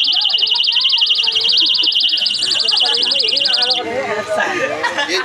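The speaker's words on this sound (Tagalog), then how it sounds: "kasi may baliw pong maghatak ng emergency alarm" An emergency alarm pulled inside a coffee and tea shop blares a loud, rapidly pulsing electronic tone over crowd chatter, then cuts off near the end as voices carry on.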